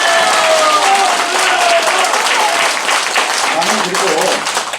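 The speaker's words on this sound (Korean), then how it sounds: "박수 한번." An audience at a political talk show in Cheongju claps loudly and continuously, a dense wash of applause close by with a few voices mixed in as it tapers slightly.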